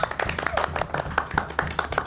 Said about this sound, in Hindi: तुम लोग किस बात की तालियां बजा रहे हो?